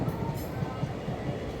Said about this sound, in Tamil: ட்ரெயின் போய்கிட்டுருக்கு.